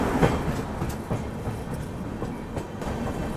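A Patna–Delhi AC special passenger train runs past Old Kanpur station at night, giving a continuous close rumble with repeated clickety-clack wheel beats throughout.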